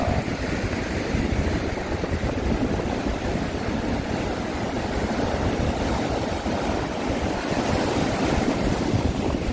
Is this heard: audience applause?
no